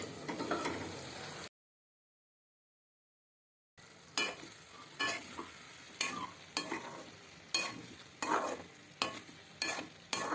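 Ivy gourd masala curry gets stirred in a pan: after a brief sizzle and a gap of silence, a spoon scrapes and clinks in a repeated rhythm against a soft frying hiss, fairly quiet and close.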